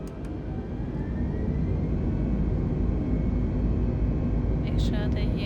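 Airbus A320neo engines spool up for takeoff in Microsoft Flight Simulator, a broad, rising roar that builds and holds steady, with a few brief clicks at the start and near the end.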